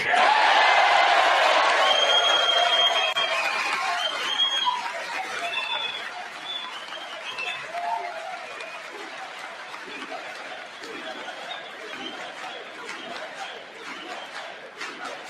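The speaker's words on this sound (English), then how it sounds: "Raucous crowd of Republicans here chanting USA." A raucous crowd of Republicans in the chamber of Congress chants and cheers, loud at first and then fading into a scattered murmur of voices and claps.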